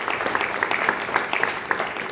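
Audience clapping fills a family worship service, a steady dense patter of many hands with scattered sharper claps, close and moderately loud throughout.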